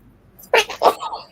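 A single quick sneeze, close and fairly loud, during a live jewelry auction stream, in a quiet indoor setting.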